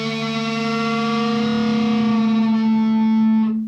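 An electric guitar with a punchy, distorted tone rings out as a thick sustained chord built from two notes, loud and close, holding steady before cutting off abruptly, with no talk.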